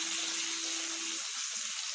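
Spice paste hits a pan of tomatoes and sizzles with a bright, steady frying hiss, close and continuous, with a faint low hum underneath that fades partway through.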